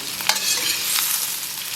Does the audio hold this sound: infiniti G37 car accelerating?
no